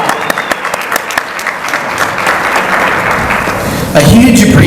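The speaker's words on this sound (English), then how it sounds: "Yes, please applaud." An audience at a realtors' association installation ceremony applauds steadily, with dense clapping filling the room before a voice starts speaking over the end of the applause.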